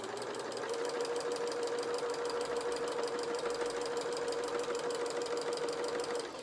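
Sewing machine stitching a Bramble Bear soft toy, a steady fast mechanical whirr with a continuous hum and rapid needle chatter running throughout, close and even.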